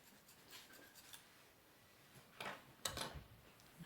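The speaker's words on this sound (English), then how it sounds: "So I'm going to support the reed, a tiny bit of filing" A small file scrapes the tip of a melodeon treble reed on a kitchen table, giving soft, brief rasping strokes that are faint and close, with a few slightly louder scrapes near the end.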